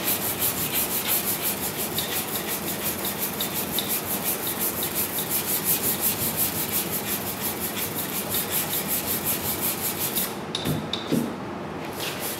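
A flat block with 180-grit paper is rubbed by hand across a car bonnet, giving loud, close, rhythmic scraping strokes in a steady back-and-forth pattern that pauses briefly near the end.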